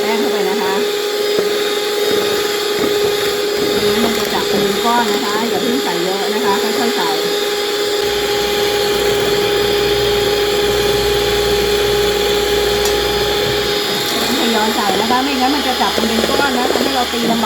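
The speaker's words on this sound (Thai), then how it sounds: "ตีจนส่วนผสมทั้งหมดเข้ากันดีแล้วนะคะ" Electric hand mixer beating waffle batter in a home kitchen, a loud continuous motor whine with steady pitch running throughout.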